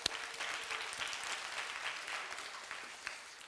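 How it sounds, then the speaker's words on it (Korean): A youth church congregation applauds for its young orchestra members, a steady dense clatter of many hands lasting a few seconds, moderately close and without talk over it. "우리 오케스트라 친구들 수고했는데 박수 한번 부탁합니다"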